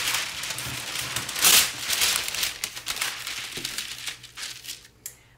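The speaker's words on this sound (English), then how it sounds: "We're going to put our blowout paper on there" Sublimation blowout paper being laid over a Trafficmaster doormat from Home Depot gives a loud, close, continuous crinkling and rustling for several seconds, with no talking.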